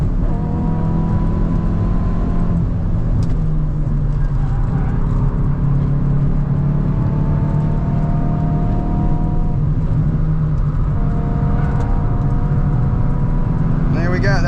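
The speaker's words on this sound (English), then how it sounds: "That's a lap in the i20" A Hyundai i20 N hot hatch laps the Nurburgring, its engine droning loud and close in onboard view, pitch climbing and dropping through gear changes, with faint tyre and wind noise.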